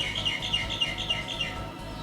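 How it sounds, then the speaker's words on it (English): Birds chirp and tweet in a video game scene, a series of short, bright calls repeating at a steady pace over a low rumbling ambient bed, moderately loud with no talking. "Birds, it's not your turn."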